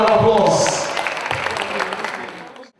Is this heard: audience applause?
yes